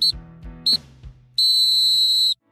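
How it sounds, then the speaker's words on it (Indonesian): Two short referee whistle blasts followed by one long, loud sustained whistle ending a football match in the anime Blue Lock, with low rumbling underneath. "Peluit tanda berakhirnya pertandingan ditiup"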